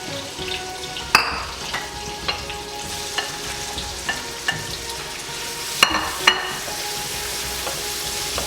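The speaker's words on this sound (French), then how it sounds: "on va mélanger tous nos ingrédients ensemble dans la poêle" Browned chicken and other ingredients tossed together in a hot frying pan, a constant sizzle broken by sharp regular scrapes and knocks of the utensil against the pan, close and with no one talking.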